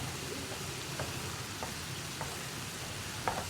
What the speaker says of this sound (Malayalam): നമുക്കൊന്ന് പതുക്കെ ഇളക്കിയെടുക്കാം